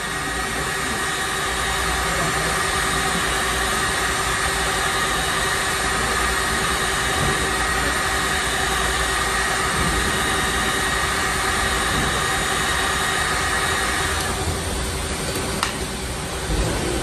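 Heat gun warming a car bumper during a dent repair without filler, producing a steady, loud, close hiss and blowing roar that continues unbroken throughout, with no talking.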